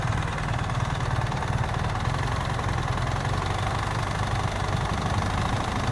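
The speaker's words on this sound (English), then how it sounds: "Make sure when you pick your foot up, this bike's not moving forward at all." A motorcycle engine runs steadily at low revs during slow-speed riding practice in Florida. The deep, continuous chugging rumble is close and loud, holds an even throb throughout and has no talk over it.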